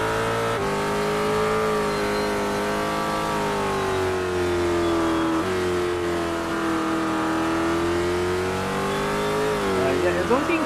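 Ford GT race car engine at speed on a circuit during a road race, a steady high-revving drone with shifting pitch and a slight dip and rise, loud throughout while commentators talk over it.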